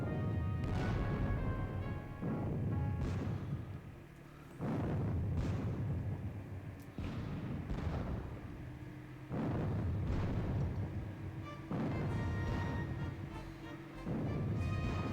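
Artillery fire in the Napoleonic wargame WDS Battle of Borodino: a steady series of heavy booming cannon blasts, each decaying into a rolling rumble, repeating every second or two, loud and alone.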